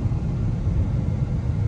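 A Chevy Cruze being driven home after a timing belt replacement, heard as a deep, steady cabin rumble of engine and road noise, loud and continuous with no talking.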